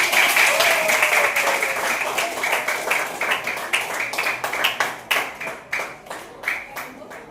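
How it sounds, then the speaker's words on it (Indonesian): Students in a classroom during an English and biology lesson applaud a classmate, starting as a dense burst of clapping that thins into slower, scattered individual claps. "itu beri tepuk tangan untuk temannya"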